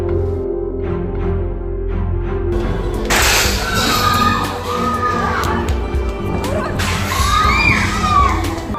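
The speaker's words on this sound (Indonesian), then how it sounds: "dan teriakan kebencian." A crowd of rioters shouts and yells during a violent street clash, a dense continuous roar with sharper bursts of cries rising above it, loud and close.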